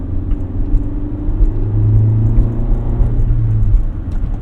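A 1988 Honda CRX Si engine starting and idling, a close, steady low rumble with a slight swell in the middle as it settles into running.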